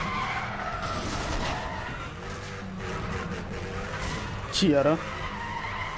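Cars race through a street race in Need for Speed The Run, engines roaring continuously under radio chatter, with one sharp tire skid standing out near the end.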